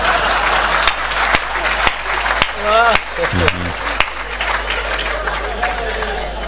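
Loud, sustained audience clapping at a Hindi comic poetry gathering (hasya kavi sammelan), with a voice briefly cutting through the crowd noise.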